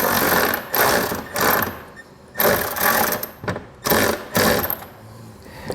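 Hardware on a Thule TracRac TracONE ladder rack bracket is snugged down on a 2021 Toyota Tacoma, heard as several short bursts of close ratcheting and tool clicking with brief quiet gaps between them.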